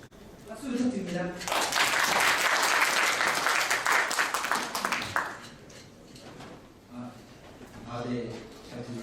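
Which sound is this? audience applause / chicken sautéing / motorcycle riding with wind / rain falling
audience applause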